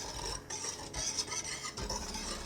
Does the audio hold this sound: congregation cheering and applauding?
no